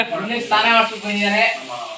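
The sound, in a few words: fish frying on a tawa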